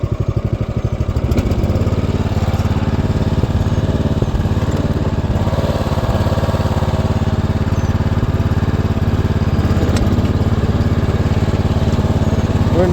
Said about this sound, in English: Let's go ahead and put her in drive. Just going to give it some gas.